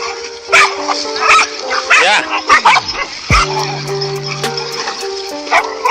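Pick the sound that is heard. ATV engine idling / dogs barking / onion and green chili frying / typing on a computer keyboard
dogs barking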